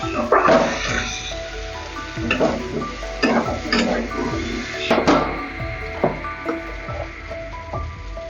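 Fried cauliflower and potato tumble into spiced masala in a pan, followed by repeated scraping and stirring strokes with clatters against the pot and a sizzle beneath, close and fairly loud, with a voice speaking over it.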